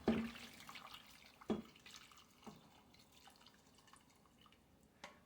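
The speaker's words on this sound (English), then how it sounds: "we're gonna go ahead and add some water to it." Water trickles and drips into a pot of oxtail stew, a few distinct splashes and drips spaced apart, fairly close and quiet with no talk.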